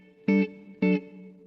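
Two short, bright guitar notes ring out through a Free The Tone Ambi Space reverb pedal set to a subtle plate, each leaving a soft, faint tail.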